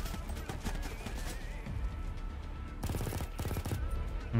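Rapid bursts of gunfire in Escape from Tarkov crackle over a steady background rumble, with a dense volley of shots near the end.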